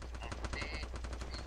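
Rapid machine-gun fire in a video game, a sustained automatic burst of closely spaced shots, fairly loud and continuous, with faint voice underneath.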